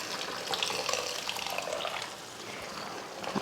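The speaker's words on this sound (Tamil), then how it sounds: "அடுத்து இந்த கடலை வேக வச்ச தண்ணியை வடித்து எடுத்து வச்சுருந்தேன்" Chickpea cooking water pours steadily into a pan of potato gravy, a soft continuous splashing trickle heard close and alone for a few seconds.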